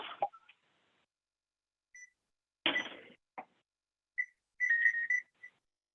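A kitchen timer gives a few short, faint electronic beeps as it is set for cooking, spaced irregularly with a pair close together and quiet gaps in between, along with a couple of soft handling clicks.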